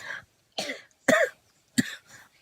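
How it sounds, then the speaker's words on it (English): A person coughs four times in a row, short harsh bursts separated by brief pauses, close and fairly loud, with the last cough softer and trailing. "I normally stop coughing already"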